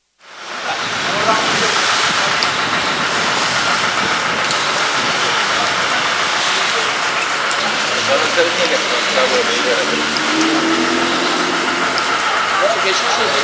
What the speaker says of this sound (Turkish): fırtınanın ardından sabah yağmur başladı